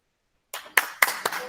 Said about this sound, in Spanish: te estamos aplaudiendo, Patricia